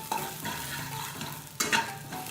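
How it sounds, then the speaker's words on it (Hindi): Bay leaf and sugar fry lightly in a pan with a soft, steady sizzle, broken by a couple of brief scraping stirs near the end. "तेज पत्ता, शुगर, हल्का से उसको फ्राई करेंगे।"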